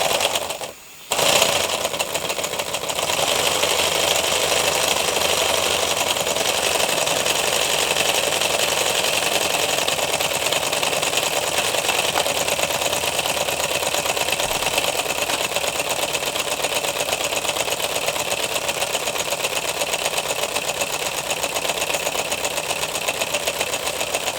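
A converted engine runs steadily after a short catch at the start, a dense, even mechanical clatter and hum that holds at a constant loud level throughout.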